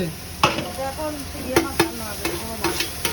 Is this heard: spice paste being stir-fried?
yes